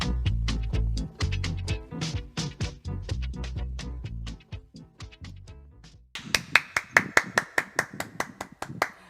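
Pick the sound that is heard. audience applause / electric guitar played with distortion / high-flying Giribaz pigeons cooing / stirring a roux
audience applause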